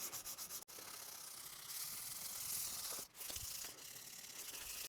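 Continuous close abrasive rubbing of sandpaper on the finish of an Eart EGLP-620 guitar body, steady and fairly loud, with a brief pause and a couple of shifts in stroke.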